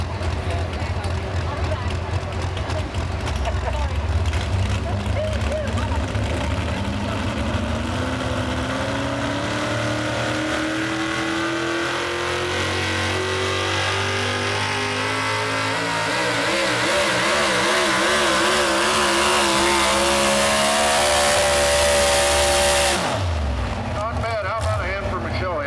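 A pulling truck, a Dakota with a big block Chevy and a tunnel ram, roars loud and close at a truck and tractor pull in Boonsboro, its engine pitch climbing steadily over about twenty seconds before cutting off abruptly.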